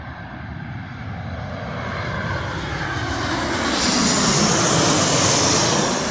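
A Jet2 airliner on approach to land passes overhead, its broad jet engine roar swelling steadily from moderate to loud as it nears, with no talk over it.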